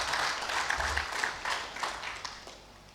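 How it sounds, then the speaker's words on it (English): A conference audience at a Nigerian lands directors' gathering claps in a brief round of applause that fades out over a few seconds. "we should welcome ourselves again with a good round of applause"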